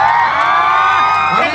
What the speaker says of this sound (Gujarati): આમના માટે જોરદાર તાળી થઈ જાય।